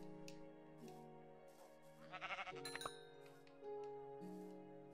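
Several sheep bleat in the Minecraft video game, short wavering calls in a loose series at moderate level, with a brief clinking burst partway through and no talk over them.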